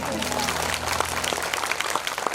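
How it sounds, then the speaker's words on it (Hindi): An audience at a devotional Krishna bhajan gathering in a pandal claps loudly and steadily, a dense wash of hands filling the space with faint voices mixed in. "ये बात अपने लिए तालियां बजाओ बढ़िया जोर से"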